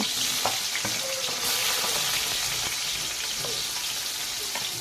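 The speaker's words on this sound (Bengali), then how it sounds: "তো বন্ধুরা দেখতেই পাচ্ছেন, এখানে আমি আলুটাকেও একইভাবে ভেজে নেব।" Potatoes fry in hot oil in a pan, giving a dense, loud, unbroken sizzle with a few faint stirring clicks.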